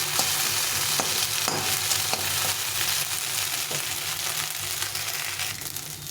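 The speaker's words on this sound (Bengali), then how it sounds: "শুধু চাউমিনটা করি এটা ভালো করে ভেজে নিতে হবে সুন্দরভাবে" Chow mein noodles without vegetables frying steadily in a hot pan, a continuous sizzle with occasional stirring scrapes and taps, close and alone.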